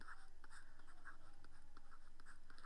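Chalk or marker scratches on a board during an engineering lecture in a soft, rhythmic series of short strokes, faint and close, with a steady electrical hum underneath.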